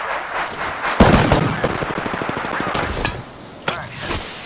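Gunfire in the shooter game Apex Legends: a sharp burst opens a rapid stream of automatic shots, then a few separate loud cracks follow, all close and loud with no talking.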